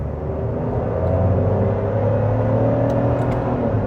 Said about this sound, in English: I'm gonna accelerate a little bit more